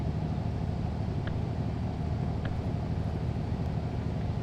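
The engines of a Piper Navajo twin-engine aircraft run in a flight simulator game with a steady, loud, even drone and rumble, broken by a couple of faint clicks.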